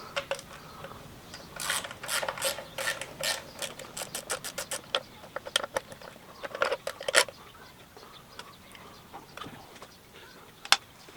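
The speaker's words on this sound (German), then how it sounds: "Und 30er Torx die Abdeckung vom Zahnriemen abnehmen." Ratchet clicking in quick bursts while loosening the T30 Torx bolts of the timing belt cover on a Skoda Octavia 3 (5E) with a 1.4 TSI engine, close and moderately loud, with pauses and a few single clicks between runs.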